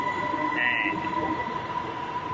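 A metro train arriving at Tao Poon station in Bangkok gives a steady, loud rumble with a sustained electric whine and a brief higher tone, heard from inside the carriage.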